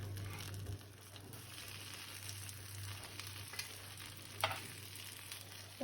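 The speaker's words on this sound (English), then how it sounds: "just grill it till it's grilled from both the sides" A paneer sandwich grills in butter in a pan, a faint soft sizzle under a steady low hum, with one or two light scrapes from a turner.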